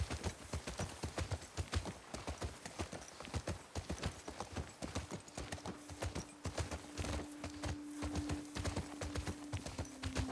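Horses walking on hard ground in the video game The Last of Us Part II, a quiet, regular clip-clop of hooves at close range, with a faint sustained tone entering partway through.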